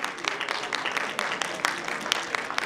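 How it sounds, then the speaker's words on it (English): Audience applause at a school annual day ceremony: a dense, lively burst of many hands clapping, with a few sharp louder claps standing out near the microphone. "A big round of applause for Sandeep."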